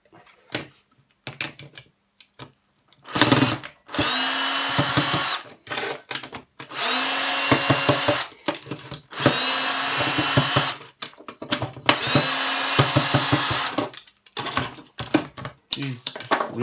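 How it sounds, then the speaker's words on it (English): A handheld drill taking apart a burnt-out scrap part containing brass, many short, loud whirring bursts in an irregular stop-start rhythm, heard up close. "the drill."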